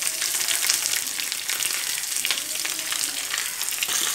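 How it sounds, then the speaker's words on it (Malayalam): Onion frying in hot oil in a pan, a steady, loud, hissing sizzle with fine crackle running throughout, close up and without any talk. "ഇനി നമുക്ക് ഉള്ളി കൂടി ഇതിലേക്ക് ഇട്ട് കൊടുക്കാം."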